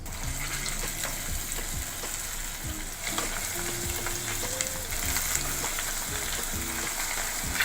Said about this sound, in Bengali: এইভাবে সব উইংসগুলো আমি পুরো ভেজে নেব।